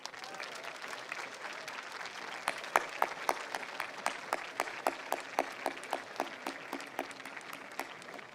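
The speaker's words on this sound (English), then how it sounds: "show your appreciation with a round of applause" A large crowd applauds at a high school commencement ceremony, with seniors standing to clap. It is a steady wash of many hands, and a few closer, louder claps stand out in a loose rhythm throughout, somewhat distant.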